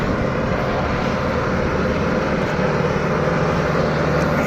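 A big tractor hauling about ten tons of sugarcane climbs a steep slope, its engine a loud, steady, broadband roar that holds constant throughout.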